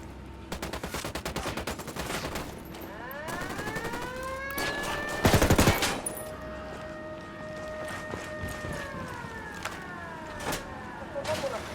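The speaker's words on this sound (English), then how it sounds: "I'm shooting these fuckers." Rapid gunfire bursts from a video game shootout, loud and repeated throughout with a heavy volley near the middle, over a rising and falling siren-like alarm tone and background shouting.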